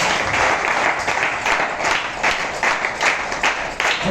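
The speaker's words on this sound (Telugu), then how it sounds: "ఒకసారి గట్టిగా చప్పట్లు కొట్టండి" A church congregation claps loudly in unison during a sermon, a dense, sustained burst of applause filling the space close by for several seconds.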